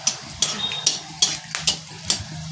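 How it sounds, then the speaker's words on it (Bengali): Dried red chillies tempering in hot oil in a pan for a Bengali chickpea curry, with a spoon scraping and clinking against the pan in repeated strokes over a low steady sizzle. "এবারে আমি এর মধ্যে দুটো শুকনো লঙ্কা ফোড়ন দিলাম।"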